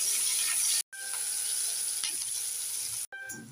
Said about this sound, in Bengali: এবার দিয়ে দেব কেটে রাখা পেঁয়াজ। 1 মিনিট পেঁয়াজটাকে ভেজে নেব।